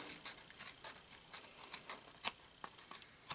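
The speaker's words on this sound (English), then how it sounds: "I'm going to trim around the bottom" Scissors trim around the bottom edge of a paper craft piece, a series of faint, close snips and paper rustles spaced irregularly, with one sharper cut standing out near the middle.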